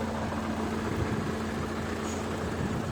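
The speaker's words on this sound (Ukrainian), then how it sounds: "Трактор ЮМЕЗ, дискова борона боме 230" A YuMZ-6L tractor engine pulling a Bomet disc harrow across stubble, a steady droning mechanical roar with constant low hum and no pauses, heard alone.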